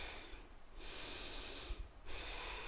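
A person draws a long, audible breath through the nose during a yoga flow, soft but close, with a hissing inhale in the middle followed by a quieter exhale.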